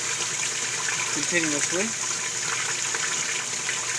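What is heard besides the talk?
water draining through open drain of Cetus sieve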